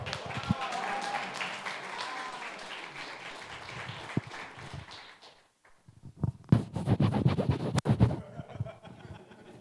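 Audience at a venue applauding, clapping mixed with a speaker's voice at first, fading briefly, then louder, uneven claps and thumps near the microphone with some talk.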